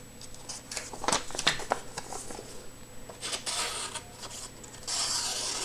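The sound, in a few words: knife being sharpened on fine side of sharpening stone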